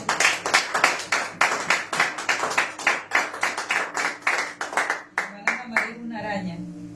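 Clapping for the King during a church sermon: loud, rhythmic claps from a small group fill the first five seconds, then thin out to a few scattered claps with voices murmuring underneath.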